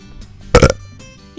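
A single loud, short burp in a quiet room, with a faint sound starting right at the end.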